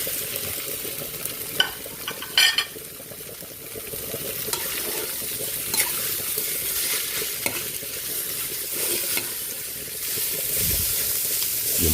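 Ground meat stir-fried in a pan for picadillo, a loud continuous sizzle with scraping stirs and a few sharper clinks of the utensil against the pan, steady throughout with no talking.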